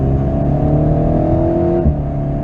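A car engine pulls hard on a race track, a loud, close, sustained drone with rising tones and a brief shift near the end, recorded from inside the cabin.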